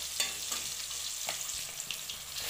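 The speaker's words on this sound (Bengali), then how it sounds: "একদম হালকা ফ্রাই করবো, বেশি করব না" Katla fish pieces fry lightly in a pan with a soft, steady sizzle and occasional faint crackles and stirring taps, close but quiet, with no voices.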